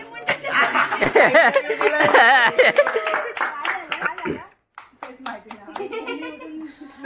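Hand clapping during a dance practice session, a few sharp claps that come late, mixed with children talking, chuckling and laughing.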